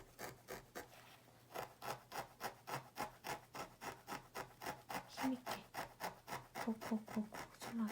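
A felting needle repeatedly jabs into wool while a dog brooch is shaped, giving a steady rhythm of soft, close scratchy pokes, roughly three per second, with no voices.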